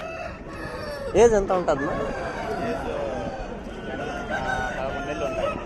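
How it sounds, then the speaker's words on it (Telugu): Heavy-size roosters at a Sunday hen market in Piler let out a single loud crow under continuous conversation, with market chatter filling the background. "వీడియోలో కనపడుతున్న మంచి హెవీ సైజు పుంజులు"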